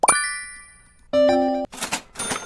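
A Toobit exchange app trade notification rings out as a clear, bright ding, followed by a sustained two-tone chime and then a pair of short soft plops, loud and close with no talk.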